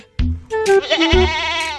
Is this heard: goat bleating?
yes